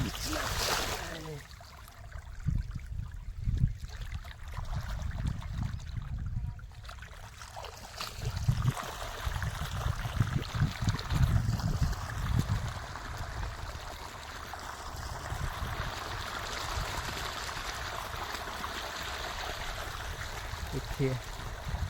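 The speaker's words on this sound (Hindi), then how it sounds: "पानी बहुत सुंदर दे रहा है" Irrigation water gushes and splashes steadily into a farm field, rushing and gurgling throughout, with a person talking over it at times.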